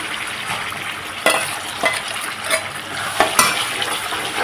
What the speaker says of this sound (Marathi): तेल हे आपलं गरम झालेलं आहे त्याच्यामुळे टाकते मसाला मसाला आधी फ्राय करून घेते मी